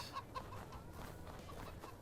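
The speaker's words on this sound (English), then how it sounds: "We got our chickens out here. We're just checking on them." Chickens in Farming Simulator 22 cluck softly in a few short, scattered bursts over a quiet farmyard background, faint and without any talk.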